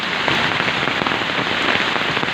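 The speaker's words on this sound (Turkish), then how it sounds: "Dolu da iyice hızlı hızlı büyük büyük yağmaya başladı şu an." Large hailstones and heavy rain hammer down in a village, a close, constant roaring patter dotted with crisp individual strikes, steady and unbroken for the whole stretch.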